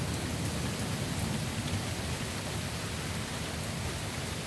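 Heavy rain from a severe thunderstorm in Monroe, Michigan, pours down as a dense, steady hiss throughout, with a low rumbling underneath and no talk.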